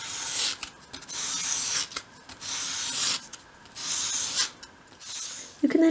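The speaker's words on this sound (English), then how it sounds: "you can use both hands to round the piece of wood" Small wooden piece for a 1/12 scale dolls house radiator cover sanded by hand with sandpaper, heard up close as four rhythmic bursts of dry rasping strokes separated by brief pauses, with no talk.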